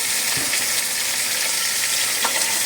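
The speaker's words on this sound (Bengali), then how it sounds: "তারপর ঘি দিয়ে চিকেনগুলোকে ভেজে নেব ভালো করে ভেজে নিতে হবে" Chicken frying in ghee for Afghani pulao, a loud, dense, continuous sizzle close up, with a couple of soft stirring knocks and no talk.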